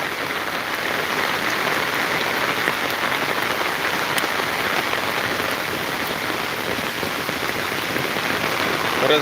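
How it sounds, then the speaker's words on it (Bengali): Steady, heavy rain patters continuously on a surface, an even wash of drops with no voices. "এই একটা পর্যন্ত বৃষ্টি বৃষ্টি ছাড়াচ্ছে না"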